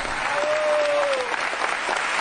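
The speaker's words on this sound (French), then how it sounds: "Un fort applaudissement." A church congregation applauds loudly in dense, continuous clapping that fills the whole stretch, with a voice briefly heard over it.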